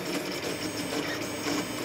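An Orcinus (Orca) 3D printer runs a speed test at 600mm/s with 35K acceleration, its motors producing a dense, continuous buzzing whir with rapid fluttering pulses from quick movements, steady and fairly quiet with no talk.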